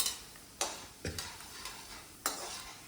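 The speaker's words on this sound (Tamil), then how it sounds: "வெங்காயம் போட்டு வதக்கிட்டு மஞ்சப்பொடி கொஞ்சம் போட்டுக்கணும்" Onions sautéing in a pan, a soft steady sizzle with a few distinct scrapes of a spoon stirring, quiet and close with no talk.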